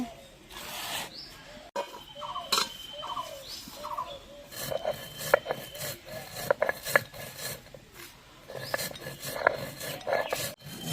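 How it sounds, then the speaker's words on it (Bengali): Roasted dried chillies and spices for a jujube (kul) chutney pickle are ground by hand, giving repeated close rasping, scraping strokes in an uneven rhythm with brief pauses between bursts. "এখন চাটনির আচারের মশলাটা বেটে নিচ্ছি"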